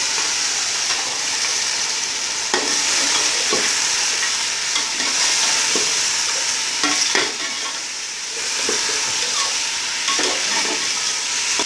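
A kilo of chicken fries in a pan for chicken pulao, with a constant loud sizzle while a spoon stirs and scrapes at irregular intervals, close by.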